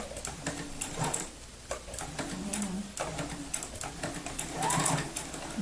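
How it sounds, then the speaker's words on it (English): A home sewing machine stitches and backstitches fabric while piecing a quilt block, its needle chattering in rapid bursts that pause and restart, close and steady with no talk. "I'm just going to back stitch here, and then I'll leave the needle down"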